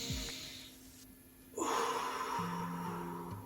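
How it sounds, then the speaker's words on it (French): A deep breath drawn in and let out during an abdominal exercise routine, a sharp close inhale followed by a longer, louder airy exhale. "Une grande inspiration, expiration."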